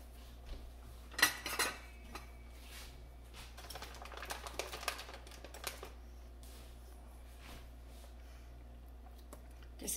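A knife cuts through sticky dates for banana date walnut bread, with scattered close taps and clicks of the blade on the board. Several denser clusters of cuts come between quieter gaps, and no one speaks.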